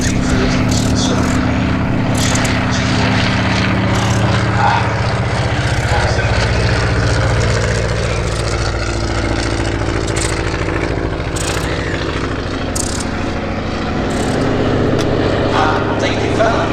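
A vintage propeller airplane engine drones loudly and steadily at an air show, a close continuous rumble with faint voices nearby.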